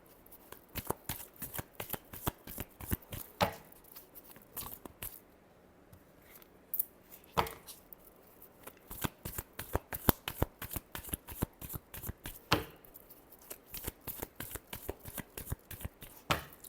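A deck of cards is shuffled repeatedly at close range, giving rapid crisp riffles and slaps in quick bursts, with brief quiet gaps between them.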